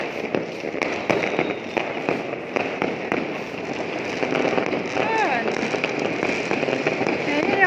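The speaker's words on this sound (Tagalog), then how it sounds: "Ang paputok ko." Chinese New Year fireworks and firecrackers burst outdoors in a steady, dense barrage of crackles and pops that fills the whole stretch, with occasional speech underneath.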